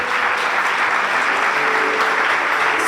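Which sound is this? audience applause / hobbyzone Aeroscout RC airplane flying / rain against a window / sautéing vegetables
audience applause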